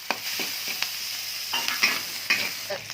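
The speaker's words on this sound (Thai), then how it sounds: "ขั้นแรกเราก็จะคั่วหมูกับน้ำมันก่อนนะคะ ให้น้ำมันหายไปก่อน กระเทียมลงไปผัด" Minced pork and garlic stir-fry in oil for Thai basil pork, with a continuous close sizzle and several quick spatula scrapes against the pan.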